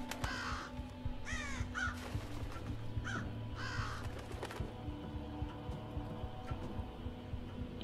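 A crow in the stealth video game Thief caws several times, the harsh calls spaced out over a low ambient game hum, with quiet ticking in the background.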